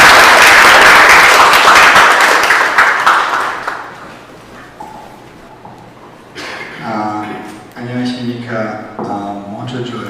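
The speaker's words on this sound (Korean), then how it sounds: "큰 박수 부탁드립니다" An audience at a youth seminar in a lecture hall breaks into loud, dense applause that fades after a few seconds, then a voice begins speaking into a microphone.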